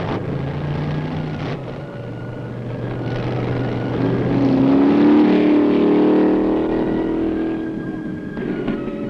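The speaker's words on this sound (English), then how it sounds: "spectators are well dusted as the big championship cars roar by" Big championship race cars roar past on the dusty Pikes Peak hill climb course in 1965, a loud engine drone that swells toward a peak mid-clip and fades again, with wind-like broadband rumble throughout.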